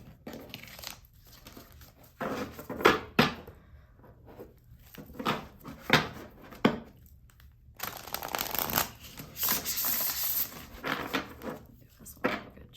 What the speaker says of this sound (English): This one a good shuffle.